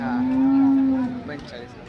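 A Khillar cow moos once at a cattle market, a long, steady, fairly loud low call that fades away at the end.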